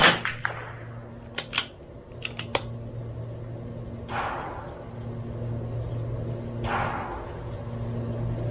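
Sharp cracks from a CZ 457 MTR .22LR bolt-action target rifle at an outdoor range, several quick reports early followed by two softer, distant-sounding shots, over a steady low hum.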